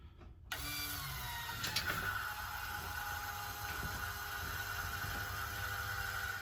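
An electric fuel pump on a Ford 7.3 diesel truck starts up and hums steadily at a constant whine, with faint mechanical ticking and rattling underneath.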